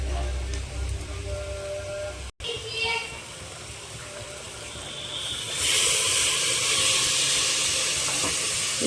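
Ground chili, turmeric, cumin and coriander frying for an egg and potato curry break into a loud, steady hissing sizzle as a little water goes into the pan, swelling near the end, with a voice talking over it.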